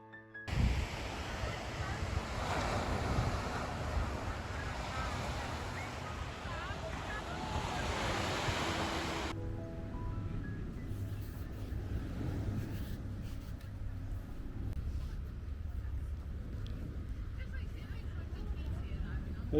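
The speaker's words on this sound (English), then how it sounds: "We're sitting on the beach in Southbourne." Waves wash steadily onto the beach at Southbourne, a continuous surf roar with wind buffeting the microphone, loud at first and then settling to a quieter, even wash.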